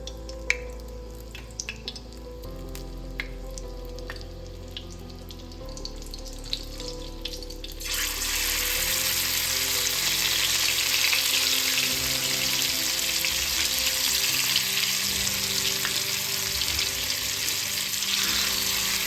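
Marinated fish roast pieces go into hot oil, and a low background sizzle jumps to a loud, dense, continuous frying hiss that carries on unbroken to the end with no speech.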